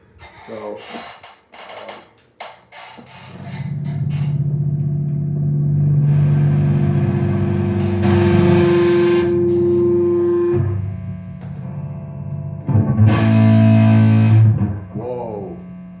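Heavily distorted Harley Benton SC-550 II electric guitar plays chugging metal riffs with sustained chords and short pauses between phrases, loud and close.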